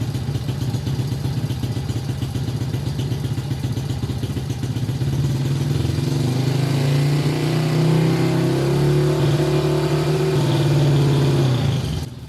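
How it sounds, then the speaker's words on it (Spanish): A motorcycle engine starts and idles close by during an ignition coil voltage test, a steady rhythmic putter that thickens and rises slightly partway through before cutting off at the end. "Vamos a encender la moto"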